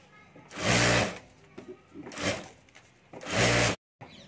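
A sewing machine stitches a folded zip strip for a handmade hand bag, running in three bursts, each a steady whirring hum lasting about half a second, separated by short pauses and faint handling sounds.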